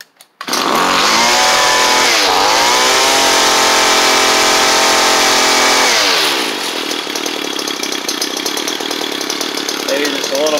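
A small two-stroke engine fitted with a new carburetor kit starts with a brief sputter and then runs steadily at a high, buzzing pitch. It dips slightly in speed partway through and stays loud and close.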